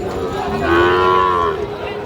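A young Sahiwal calf lets out one loud, drawn-out moo close by at a cattle market, over a low murmur of background activity.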